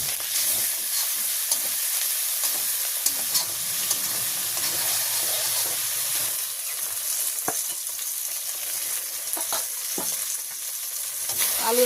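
Curry frying in mustard oil with salt and turmeric in a village kitchen, a steady loud sizzle throughout with scraping stir strokes and occasional sharp clinks of the spoon against the pan.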